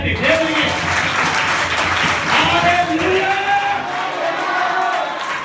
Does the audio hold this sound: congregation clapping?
yes